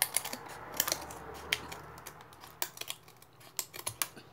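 Scissors cut material for a shabby-style craft lantern, giving a series of sharp close snips and clicks, sparse at first and then quicker in short bursts, with no talk.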